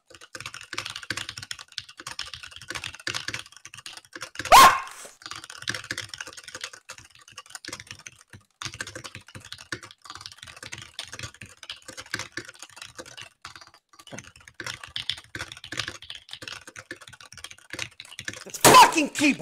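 Rapid, continuous clatter of a computer keyboard during a TypeRacer game, close and steady with brief pauses, interrupted twice by a loud cough or throat-clear.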